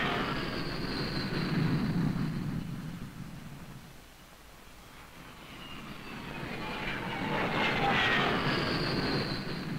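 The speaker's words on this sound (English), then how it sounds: "In all flight quarter stations, stand by to land aircraft." Navy carrier aircraft coming in to land on an aircraft carrier deck, a loud continuous jet roar that swells, dips briefly in the middle, then builds again, with high engine whine throughout and no talking.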